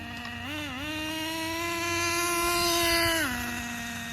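A Traxxas nitro RC truck engine runs steadily with a buzzing, nasal whine, briefly dipping and then rising in pitch as it revs, close and fairly loud.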